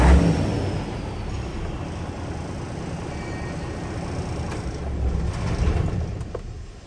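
A used car for sale idles and revs nearby, a steady low engine rumble that swells briefly toward the end, with no talking.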